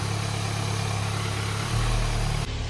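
A Volkswagen Golf 7R engine idles with a steady low drone, near and constant, its pitch rising briefly before settling back, with no talk over it.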